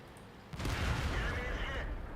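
A tank shell glancing off turret armor in World of Tanks, a sudden loud metallic impact with a ringing, rumbling tail after a quieter lead-in.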